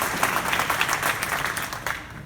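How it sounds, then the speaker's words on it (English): Audience applause at a startup business summit in The Hague: dense, steady clapping from a crowd, sustained and fairly loud before fading slightly at the end. "please give a round of applause for Gagan from Sitama."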